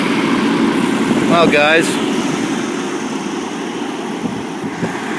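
A Jaguar car engine, hot after a heat soak, runs at a steady idle after restarting, a continuous low rumble that fills the clip, with a voice speaking briefly over it.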